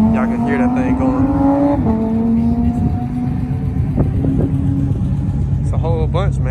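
A car engine runs loud and steady at a Cars and Coffee meet in Durham, its deep droning hum holding throughout with a brief shift in pitch, while voices are heard in the background.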